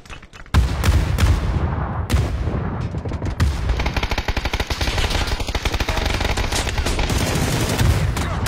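Video game gunfire roars in dense, continuous bursts, with rapid automatic fire and heavy booms layered close and loud throughout.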